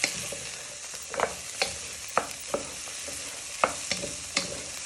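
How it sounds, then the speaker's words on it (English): Carrots and peppers stir-fried with onions and garlic for spicy rice sizzle steadily in a hot pan, with irregular scraping and tossing clatters from the spatula breaking through the continuous frying hiss, close and moderately loud. "So you're just giving them a good toss in for a minute or two."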